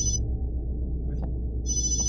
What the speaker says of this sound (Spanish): ¿Quién te llamó? Ah, ya, el celular.